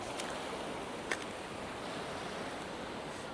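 Sea waves at Zandvoort beach on the Dutch coast make a steady broadband wash of surf mixed with wind noise, continuous and moderately loud with no talk.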